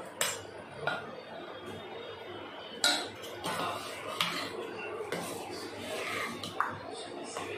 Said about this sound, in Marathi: हे व्यवस्थित असं एवढा मिक्स करून घ्यायचं.